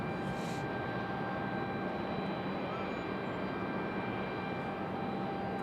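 An airliner arriving from Washington Reagan National Airport at Raleigh-Durham makes a steady, even engine roar that holds without letting up. A faint voice lies beneath the noise.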